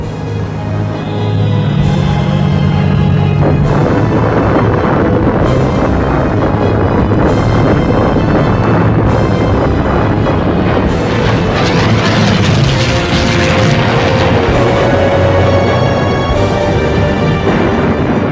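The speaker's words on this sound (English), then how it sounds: "Four hours after the first invasion wave, Singapore is bombed." Heavy wartime bombing of Singapore by Japanese aircraft, with dense rumbling explosions and booms rolling one after another over a continuous loud roar, no voices.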